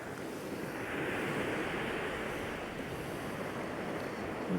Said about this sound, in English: A couple of tiny waves, but nothing to worry about.